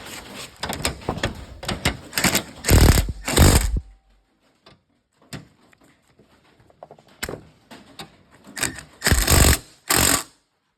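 A power tool tightens nuts on a lawnmower being built into a race mower, firing in several loud, rattling bursts with a quiet pause between the two groups.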